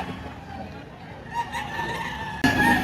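Roosters at a crowded chicken market in Lipa, Batangas, crowing rising over a murmur of background voices and market bustle, louder toward the end.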